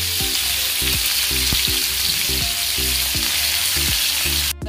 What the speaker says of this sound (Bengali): মাছ ভাজা হচ্ছে শঙ্কর মাছ